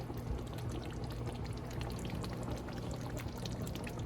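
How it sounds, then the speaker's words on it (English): Mushroom broth pours steadily into a pot of palava stew with smoked turkey, a continuous close liquid splash and trickle that runs the whole time with no talking. "I'm also going to put my mushroom and mushroom broth into my stew now."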